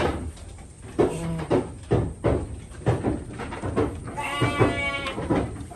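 A Garut sheep bleats repeatedly in a pen, loud and close, with wavering cries at irregular intervals and no talk over them.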